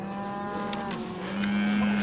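Cattle low over a steady background hum, and one sustained moo swells louder toward the end, fairly close.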